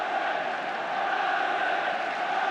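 Football stadium crowd at the 1985 FA Cup Final between Manchester United and Everton, a steady dense roar building slightly in volume over a few seconds.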